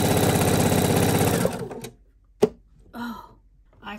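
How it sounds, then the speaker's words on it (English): A sewing machine stitches around a pocket on a recycled quilt, a loud rapid rhythmic clatter for about a second and a half before stopping, followed by a sharp click and brief talking. "we're just going to sew all the way around the pocket"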